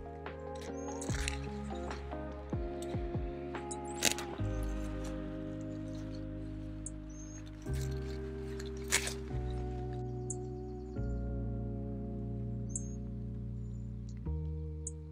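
Broccoli being picked from the garden plant with as much stem as possible, heard as close, crisp snapping, squeaking and crunching of stalk and leaves amid steady, quiet background noise, without speech.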